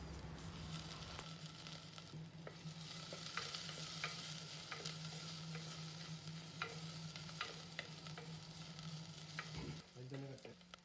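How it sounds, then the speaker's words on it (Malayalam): Green chillies and curry leaves stirred in a pan of frying onions for prawn mango curry, a soft steady sizzle with scattered spoon scrapes and taps, a few louder knocks at the end. "ഇനി ഇതിലേക്ക് അരിഞ്ഞു വെച്ച പച്ചമുളകും കഴുകി വെച്ച കറിവേപ്പിലയും ഇട്ട് നന്നായി ഇളക്കുക."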